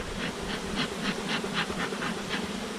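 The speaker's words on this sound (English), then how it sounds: "Full of bees. Every frame's got bees on them" A dense, steady buzz of honeybees rises from an open hive box full of bees during a fall inspection, close and continuous with slight pulsing.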